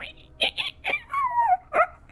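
A person imitates a whale call with a few short voiced bursts, then a long, drawn-out falling moan and a final short hoot, loud and close in a casual conversational setting.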